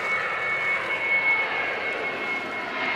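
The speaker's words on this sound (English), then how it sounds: "And then there's another plane." An airplane at an airport gives a steady, broad engine roar with a faint high whine, holding an even loudness throughout at moderate distance, with no voices.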